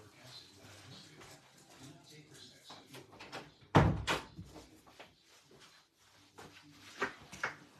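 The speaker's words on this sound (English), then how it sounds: "I got to close the door" A door is pushed shut indoors in a house, landing as one solid thud near the middle amid quieter rustling and handling sounds, with a few sharper knocks afterward.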